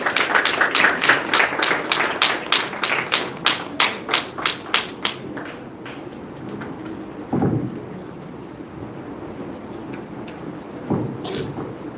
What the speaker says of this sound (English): Please welcome our principal with a warm round of applause.